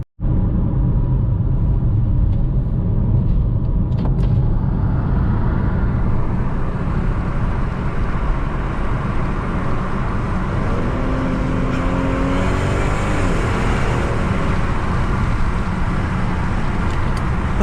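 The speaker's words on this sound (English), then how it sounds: "I figured going under that underpass, I'd at least give it a try and see what it would do" An Audi A3 3.2 being driven through an underpass, with a loud, steady engine rumble that builds and then rises in pitch toward the end, heard from inside the car without any talk.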